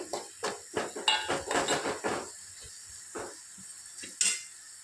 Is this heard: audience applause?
no